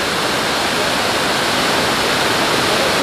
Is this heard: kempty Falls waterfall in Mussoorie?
yes